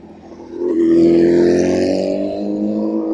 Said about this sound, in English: there's a motorbike